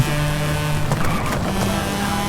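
A Mazda RX-7 FC3S in Forza Horizon 5 races a downhill course, its game engine droning loudly and continuously with shifting pitch and faint tire noise, no talking.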